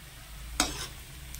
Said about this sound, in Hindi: तो चलते इसको अब हम फ्राई कर लेते हैं